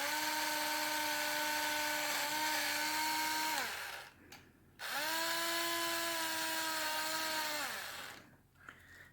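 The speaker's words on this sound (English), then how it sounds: "So I'm just going to drill right through them." A power drill bores through a plastic airsoft mask and tactical helmet: a loud, steady high whine runs for about four seconds, stops briefly, then returns for another long burst before winding down.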